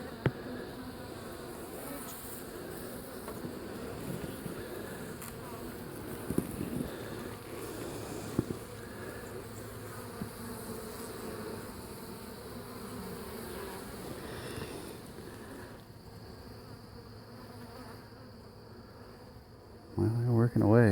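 Honeybees buzzing around an open hive, a steady, dense drone that continues throughout at low level, with faint wind noise.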